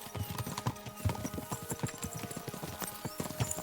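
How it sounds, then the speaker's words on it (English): Horses gallop in the medieval video game Kingdom Come: Deliverance, a rapid rolling clip-clop of hooves at close range over a background of game ambience. "We should spur the horses on."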